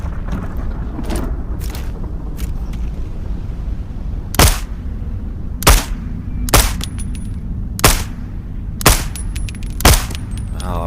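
Pistol and shotgun fire in the VR shooter Into the Radius 2: a handful of sharp, loud reports spaced about a second apart, preceded by fainter scattered shots over a low rumbling game ambience.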